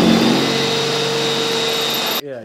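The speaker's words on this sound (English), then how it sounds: "Cam, can you just make sure I'm not going to drill through your cables?" An electric drill whines at a steady high pitch while working near a 630A three-phase supply installation, then cuts off abruptly near the end.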